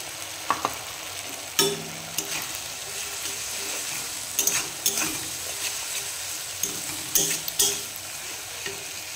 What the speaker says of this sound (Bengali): পেঁয়াজটা আমার ভাজা ভাজা হয়ে গেছে, এখন মশলাটা দিয়ে দেবো।